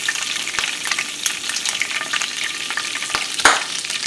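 Stuffed bell peppers frying in hot oil give a steady, close sizzle dotted with sharp pops, one louder crackle near the end.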